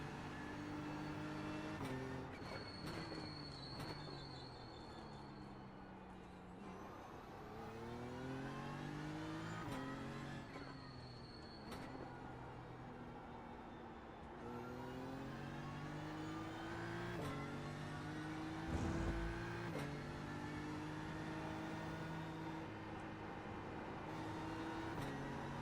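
A race car at Watkins Glen in iRacing, running on cold tires, its engine climbing through repeated gear shifts with rising whines and brief drops between them, steady and fairly loud with no voices.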